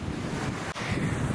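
Incoming tide waves washing over rocks at Mermaid's Grotto in Okinawa, a steady rushing surf wash with wind buffeting the microphone, brief and continuous with no voices.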